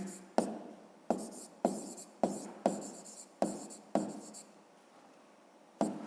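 Handwriting during a fifth-grade maths exercise gives about eight crisp, separate strokes at an uneven pace, close and fairly quiet, with short gaps between marks and no voices.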